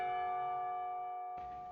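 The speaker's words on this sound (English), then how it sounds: "The clock tower bells ring, signaling the end of the period," Clock tower bells in the Katawa Shoujo video game ring out as a sustained, resonant chime with a second strike near the end, heard alone.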